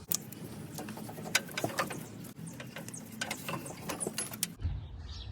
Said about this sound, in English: you can just pull this out, get it off the rest of the pulleys